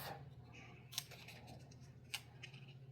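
Scissors cut through paper card in two crisp, separate snips about a second apart, close and clear against a quiet background with a low steady hum.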